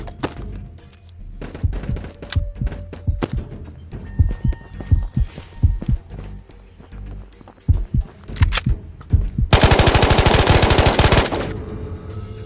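Gunfire in the VR shooter Ghost of Tabor: scattered single shots and thuds early on, then a loud, rapid automatic burst near the end. The shots are close and sharp, with some gear handling between them and no speech.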